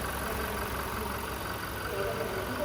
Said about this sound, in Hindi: और अपना इंजन जो है वो डीजल इंजन, वो देख लीजिए इधर।